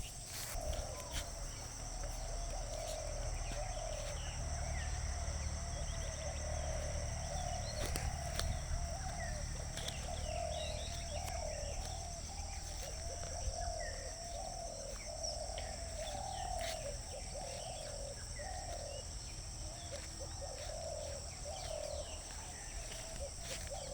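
Birds call outdoors where peacocks are about: repeated cooing and chirping run steadily through the whole stretch at moderate distance, over faint insect-like background hiss, with no talking.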